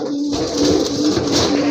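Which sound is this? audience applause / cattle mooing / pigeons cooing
pigeons cooing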